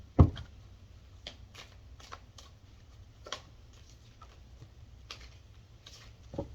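Tarot cards being shuffled by hand, with a sharp knock at the start followed by soft, scattered ticks and riffles spaced irregularly over a low hum, quiet and close.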